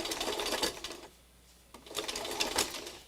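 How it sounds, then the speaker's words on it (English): Sewing machine stitching in fast rhythmic bursts, close and clear, running for about a second, pausing briefly, then resuming for a longer run. "So I'm going to stitch this real quickly."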